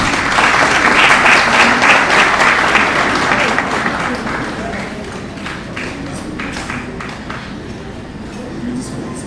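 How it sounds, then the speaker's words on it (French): An audience applauds minister Stéphanie Auguste at a World Children's Rights Day event, dense clapping that is loud at first and slowly thins and fades, with voices murmuring underneath. "Je vous demande d'applaudir Madame la ministre Stéphanie Auguste."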